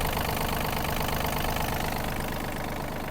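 Steady close idle of the 1.5-litre, 27-horsepower engine on a Yanmar RS-27 Japanese mini tractor: a continuous loud chugging rumble with a fast, regular knock, heard alone and easing slightly toward the end.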